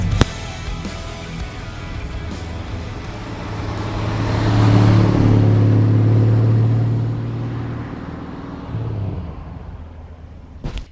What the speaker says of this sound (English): for a 6-cylinder car, this car just sounds great